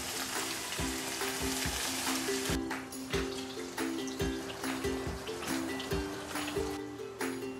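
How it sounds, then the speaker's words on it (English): Three burger patties sizzle steadily in a pan, a loud, continuous frying hiss broken by occasional sharp clicks and scrapes, with no one talking. "Habang niluluto natin ang burger patty"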